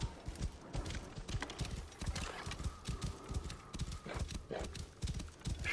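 Rhythmic clip-clop of horse hooves trotting at a steady pace in the video game Assassin's Creed Origins, fairly close, with a brief whinny and faint background ambience.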